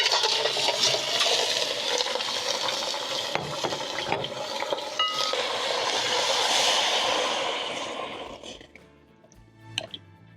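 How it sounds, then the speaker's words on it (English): Chicken pieces dropped into a pot of hot oil over medium flame for Kenyan chicken tumbukiza, giving a loud, steady broadband sizzle that carries on for several seconds, then dies down quickly with a few faint clinks near the end. "Then next, you're going to be adding in your chicken."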